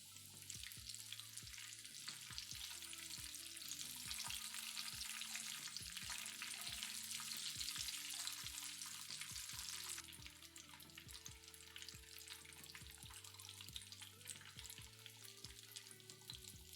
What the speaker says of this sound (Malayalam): ചിക്കൻ പീസുകൾ 2 തവണയായി ഇട്ട് ഫ്ലെയിം ലോയിലേക്ക് മാറ്റി 2 വശവും ഗോൾഡൻ ബ്രൗൺ ആകും വരെ വറുക്കുക